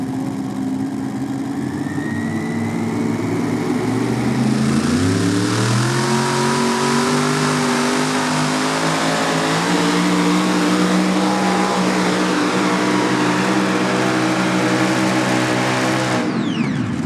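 A super modified pulling tractor at a pro pulling event in Hillsboro, Wisconsin roars loudly and continuously through a pull, its engine pitch climbing and holding high as it revs, with no talking.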